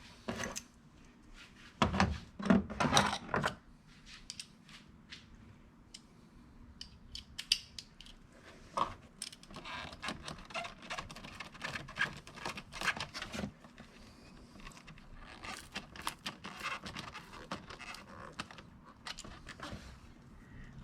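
A hose clamp is ratcheted tight around an AEM air intake filter on a fifth-generation Toyota RAV4, with a burst of clicking turns early on followed by scattered small metallic clicks and handling noises.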